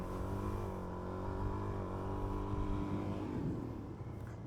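An old single-cylinder thumper motorcycle engine runs steadily and close by, its low harmonic drone holding through wheelie practice before easing slightly near the end.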